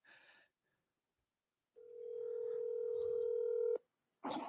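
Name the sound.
phone dialing tones, calling back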